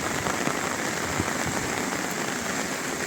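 Heavy monsoon rain pours steadily over flooded rice paddies during transplanting, a dense, even hiss of drops hitting water and surfaces, continuous and close with no voices.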